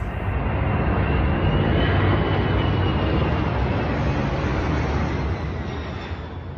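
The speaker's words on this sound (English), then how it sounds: "A transport aircraft from the Australian Air Force is making its way through the bustling city of Brisbane" An Australian Air Force transport aircraft flies low over the city of Brisbane during an annual air show, its engines a loud, continuous roar that stays steady and then eases slightly toward the end.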